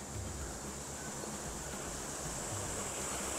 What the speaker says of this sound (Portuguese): Ó como que a água tá forte